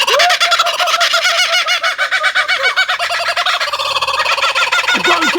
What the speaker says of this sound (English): Having a nice little chat with this kookaburra here.